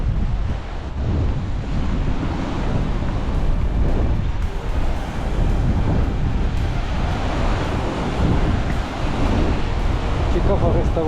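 Strong wind roars and buffets against the microphone while riding a Yamaha Tenere 700 into a headwind, a loud, constant rushing noise that nearly buries any engine sound.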